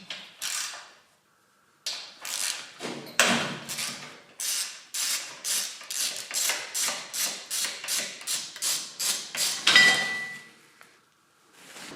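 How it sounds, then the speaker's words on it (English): Bolts are being unscrewed on a 2000W 60V electric pit bike during assembly, giving a run of quick, evenly spaced ratcheting clicks and creaks up close, with brief pauses at the start and end. "Next, unscrew these two bolts here."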